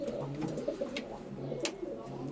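Van pigeons in a home coop give low throaty coos in overlapping repeated phrases, near and fairly steady, with faint chirps and rustling around them.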